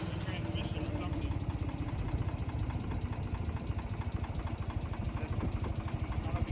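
A Ford 2600 tractor runs with a steady, close engine drone and a rapid rhythmic rattling, mechanical churning from the transmission, continuous and loud throughout.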